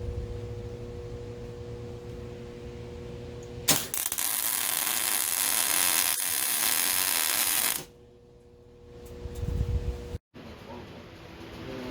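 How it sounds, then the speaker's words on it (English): Tack welding a custom steel deck for a Bigfoot 2500 camper: a loud, steady crackling hiss of the welding arc runs for about four seconds. Quieter shop noise and a few clanks come before and after it. "we're going to weld our first part in right now"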